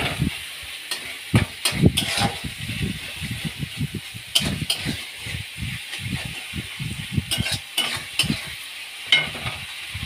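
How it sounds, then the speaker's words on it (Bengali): Spices stir-fry in oil in a pan for a Bengali fish dish, a close scraping and stirring rhythm over a soft sizzle. "দিয়ে এবার মশলাটা কষতে থাকছি।"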